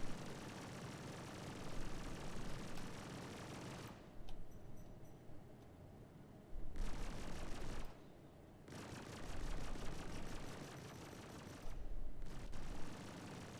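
Rapid cannon fire from an Ion ship in the space combat game Star Citizen, dense bursts of rattling shots broken by several short pauses, loud and continuous in stretches with no talk.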